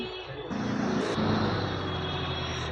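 A BMW M5 engine in GTA San Andreas revs up and then holds a loud, steady, buzzing tone with a low rumble underneath, continuous and close.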